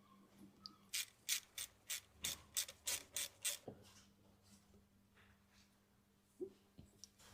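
A hand ratchet undoes a bolt on a BMW 3 Series intake pipe in a quiet workshop, giving a close series of about a dozen rapid clicking bursts, then a few faint knocks.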